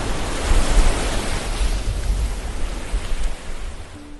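Waves wash steadily onto Bar Beach, a wide, open shoreline without large vegetation. The surf makes a continuous, fairly loud roar that swells slightly and then eases.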